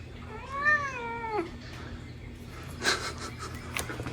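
A cat gives one rising-and-falling meow, near and clear, followed by a short breathy snort or huff a moment later, over a quiet room hum with no speech.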